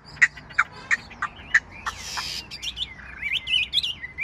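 A hwamei songbird sings loud, close, bright chirps in short repeated bursts, with a rapid, warbling run of notes near the end.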